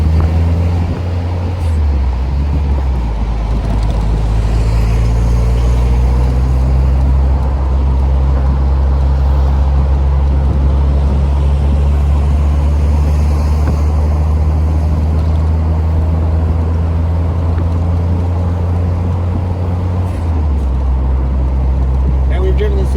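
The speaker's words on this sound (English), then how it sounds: "they're straight cut gears. That's why it makes that whine." A 1980 Fiat 124 Spider drives along with its straight-cut transmission gears. A loud, continuous engine drone carries a rising and falling gear whine, and the pitch drops sharply near the end as the car changes speed.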